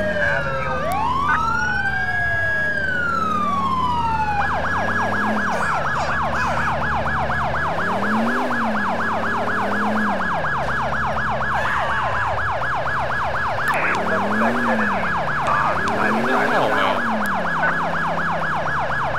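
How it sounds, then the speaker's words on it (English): An ambulance siren in the video game GTA IV wails loudly and continuously, first as rising and falling sweeps, then as a rapid warbling yelp over a low engine rumble. "There's an ambulance."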